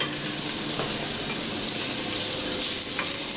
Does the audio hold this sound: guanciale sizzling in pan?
yes